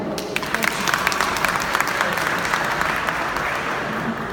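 Audience at a community association inauguration applauding: dense, sustained clapping from a large crowd, steady and fairly loud throughout, with faint voices blended in.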